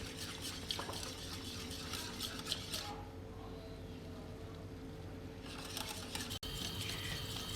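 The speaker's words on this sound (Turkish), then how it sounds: "Onu da ilave edip çırpmaya devam ediyorum." Crepe batter with salt being whisked in a bowl, a quick rattling clatter of the whisk against the sides that stops for a couple of seconds, then starts again, faint and close.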